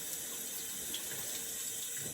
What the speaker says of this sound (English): washing off the razor